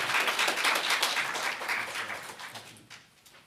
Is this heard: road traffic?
no